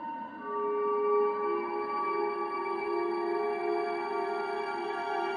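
Tibetan singing bowl tones from a healingBowl iOS app with added reverb and shimmer, several sustained overlapping tones ringing steadily and loudly with a soft swell, no voices.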